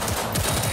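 Rapid bursts of gunfire from the video game Cyberpunk 2077, a loud automatic rattle in a short, continuous stretch with no talk over it.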